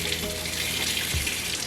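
Tilapia fish being rinsed under a running tap after a cold water and vinegar soak, a steady broadband rush of water splashing into a sink throughout.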